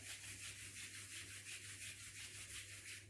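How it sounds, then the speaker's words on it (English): Palms rubbed briskly together in a steady, continuous swish during a yoga warm-up, close and fairly quiet, with no talking. "rub the palms together"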